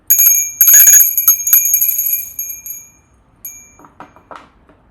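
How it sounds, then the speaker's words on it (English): A bright metal bell rings repeatedly in quick strokes, loud and close, then its shimmer fades into soft rustling. "I'm just gonna ring a bell, so you could mute or probably lower down the volume."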